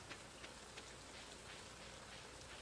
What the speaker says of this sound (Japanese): こんな雨の日はどうなんでしょう。